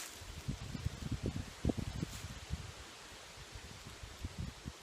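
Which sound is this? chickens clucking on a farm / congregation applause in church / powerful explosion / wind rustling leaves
wind rustling leaves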